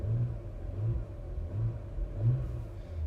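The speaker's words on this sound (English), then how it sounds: "If you want to drive in sport mode, the car revs quite a bit higher in sport mode." A 2021 Porsche Macan S engine in sport mode gives a low, rumbling throb that swells and eases in a regular pulse, heard from inside the car, moderately quiet and with no talking.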